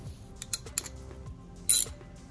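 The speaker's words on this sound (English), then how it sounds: "Make sure your ratchet is set for the proper direction." Ratchet wrench turning the blade bolt on a Honda HRX 217 HYA lawn mower, giving a few sharp, close metallic clicks in brief irregular bursts, with one louder rasp near the end over quiet background.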